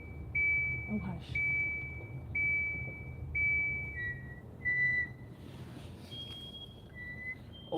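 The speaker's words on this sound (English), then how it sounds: "Oh, my brakes are so squeaky in this rain." Car brakes squeal in the rain in a series of thin, steady high-pitched whines, each lasting about a second with short pauses, over low road noise.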